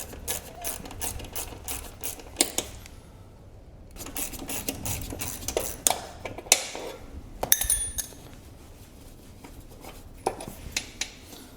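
Metallic clicks and scrapes of tools working bolts loose from the rear brake caliper of a Honda CB500X motorcycle, with irregular taps and a clink of a bolt coming out, close and fairly quiet.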